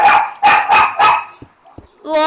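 Several loud, close dog barks come in quick succession through a Skype headset microphone, followed by a short pause and then a voice.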